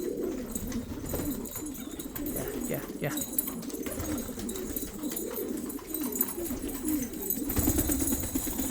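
Pigeons coo in a low, rolling chorus close by, with a brief flutter of wings, while a person calls out softly now and then.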